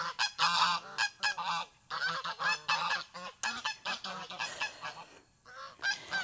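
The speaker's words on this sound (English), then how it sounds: "the geese are kind of overpowering" Geese honk loudly and repeatedly at a farm pond, overlapping calls in dense, continuous bursts close by with only brief pauses.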